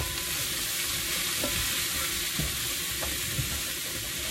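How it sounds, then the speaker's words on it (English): Vegetables sautéing and semi-steaming in a pan, a steady close sizzle with occasional stirring clinks and scrapes, no voices. "I'm basically, by doing this, I'm sauteing my vegetables and at the same time semi-steaming them too"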